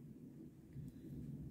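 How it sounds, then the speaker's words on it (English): Distant thunder from a thunderstorm rolls as a faint, low rumble, swelling slightly midway and continuing without any voices. "Ooh, we got thunderstorm,"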